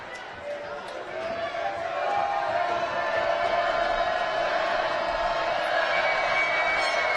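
The crowd in a gym at a Spanish Fork vs Uintah high school boys basketball game keeps up a steady roar that swells louder after a couple of seconds, with a voice talking over it.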